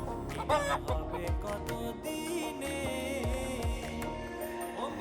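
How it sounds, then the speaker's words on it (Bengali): Caged country chickens and roosters clucking nearby, with a run of repeated squawking calls overlapping one another and a short crow-like cry, no talking. "খাঁচার ভেতর বড় বড় সব দেশি মুরগি মোরগ রাখা আছে"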